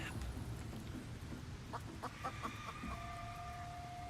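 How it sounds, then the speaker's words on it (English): Chicken clucking in Baldur's Gate 3, a few short repeated clucks and a held tone over steady game background noise, moderately loud. "Disheveled chicken."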